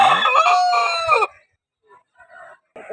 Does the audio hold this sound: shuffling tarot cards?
no